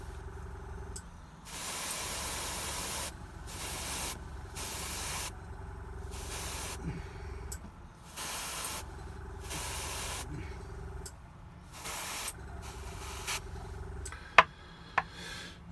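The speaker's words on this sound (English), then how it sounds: "let me just put the airbrush down" An airbrush spraying paint onto a Red Cap miniature, a series of short hissing bursts of a second or two each separated by quiet gaps, close and fairly loud, with a couple of sharp clicks near the end.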